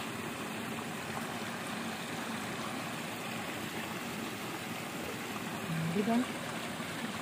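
Water from Kataw Falls flowing in a stream through farmland after rain, a steady rushing wash at moderate distance, with a voice speaking briefly near the end.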